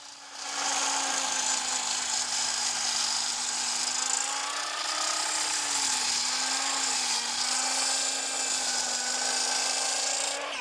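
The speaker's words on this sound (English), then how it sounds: "Listen to how fast it's spinning the blade because the Jackery 3000 has plenty of juice." A 16-5/16 in Skil circular saw, powered by a Jackery 3000 power station, spins up and runs free with a loud, steady high whine that wavers slightly and holds close throughout.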